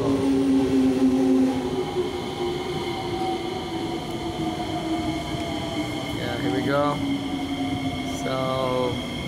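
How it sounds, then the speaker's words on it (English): A train rumbles steadily on the rails, its deep hum holding constant while squealing wheel tones rise and fall as it draws near. "here the train's coming"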